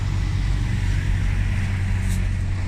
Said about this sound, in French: Ah, et un camion là.